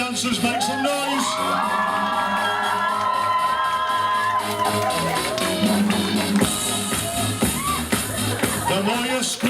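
A hypnotist show audience screams, whoops and cheers loudly and continuously as a crowd, with music playing underneath and a hint of voices mixed in.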